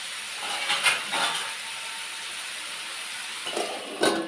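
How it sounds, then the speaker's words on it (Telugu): Onions cooking in a covered pan, a steady hissing steam with a few brief louder surges, soft and continuous. "మూత పెట్టేసి ఉల్లిపాయలు మగ్గనిద్దాం."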